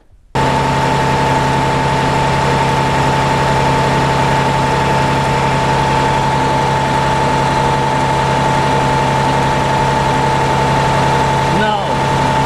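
A Terex 72-51B machine's engine idles under repair for a hydraulic leak, a steady loud drone with a constant hum that runs unbroken for the whole stretch.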